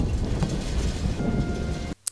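Thunderstorm with heavy rain in a movie scene from The Lord of the Rings: The Two Towers, a loud, dense roar of rain and rumbling thunder that cuts off abruptly near the end, with no talk.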